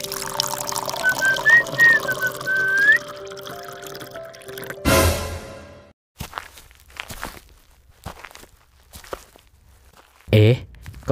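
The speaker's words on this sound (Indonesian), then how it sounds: "Kok kayak ada suara langkah kaki ya?" Footsteps in a horror film set in a wood factory restroom: after running water and whistling, a sudden burst gives way to sparse, faint steps in near silence, with a louder knock near the end.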